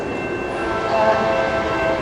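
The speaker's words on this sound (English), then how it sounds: "Now I'm getting ready to compete with the train" A train passes near a fire station in Orlando, Florida during an outdoor 9/11 memorial, giving a steady loud rumble with faint tonal horn traces throughout, no voices heard.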